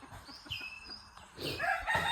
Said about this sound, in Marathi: कक कक कक करतो आहे